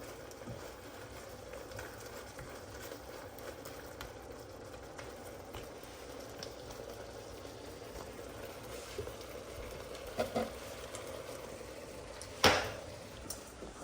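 Liquid boiling in a pan on high heat while cooking chicken oyakodon, a steady low bubbling hiss throughout, with a few faint clinks and a sharper knock near the end.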